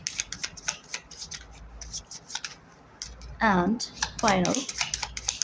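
Tarot cards riffle and snap in quick shuffling bursts close by, with a brief voice speaking partway through.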